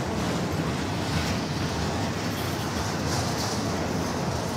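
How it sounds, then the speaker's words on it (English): A Norfolk Southern freight train, pulled by several locomotives, rumbles steadily past in Effingham, Illinois, a loud continuous roar of wheels and cars that holds without a break and with no talk over it. "That's a long train."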